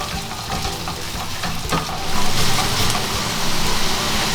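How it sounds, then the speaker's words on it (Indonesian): Chopped onion sautéing in melted margarine, with a loud steady sizzle and stirring scrapes that swell after a couple of seconds when the pan gets busier; no voices. "Kalau margarinnya udah cair, bawang bombaynya kita bisa masukin. Kita tumis sebentar aja agar dia layu."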